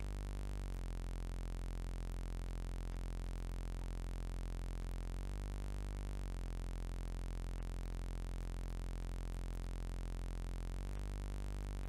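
A thick, buzzy, distorted synth bass preset called Cleaner drones loudly and continuously, shifting pitch a few times across the stretch, with no voices over it.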